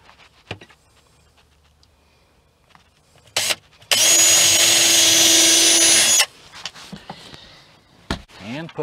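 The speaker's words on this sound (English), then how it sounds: "and pre-drill." A power drill whirs loudly for about two seconds pre-drilling into wood for a van galley door, bracketed by soft handling noises and brief rustling before and after.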